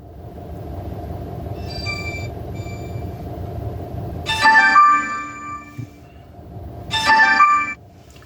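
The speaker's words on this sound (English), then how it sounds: "So I just don't feel like hearing all that ringing." An electronic ringtone chirps in two loud bursts a couple of seconds apart, over a low rumbling background.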